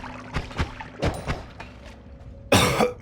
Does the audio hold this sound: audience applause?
no